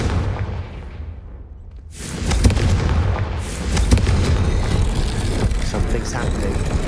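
A Confringo spell explosion in the Hogwarts Legacy video game goes off with a loud booming blast after a brief lull, followed by sustained rumbling and crackling debris that stays loud to the end.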